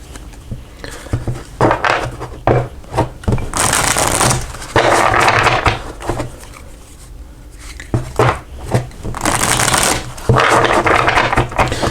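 A Cilla Conway Intuitive Tarot card deck being shuffled by hand in bursts of riffling and sliding cards, with short pauses between, loud and close, with no talking.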